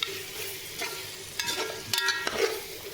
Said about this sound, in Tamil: இஞ்சி பூண்டு அந்த மசாலா எல்லாம் கொஞ்சம் நேரம் வேகட்டும்.